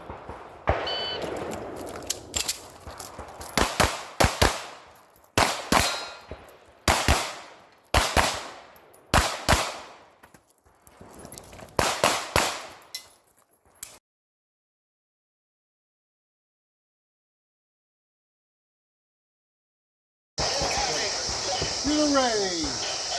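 Pistol shots at a USPSA law enforcement match stage, a fast string of loud sharp cracks in bursts with short pauses, followed by silence and then distant outdoor noise.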